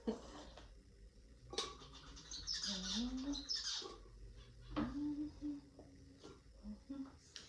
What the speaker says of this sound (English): The baby finches are so much louder than the adult ones.